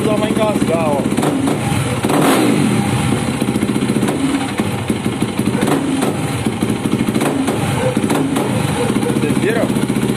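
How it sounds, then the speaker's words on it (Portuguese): A Yamaha WR250 or WR450 motorcycle engine idles and then revs, stumbling and sputtering unevenly as the throttle is opened quickly, close by and loud throughout. "Se eu acelerar ela aqui rápido, ela vai engasgar, ó."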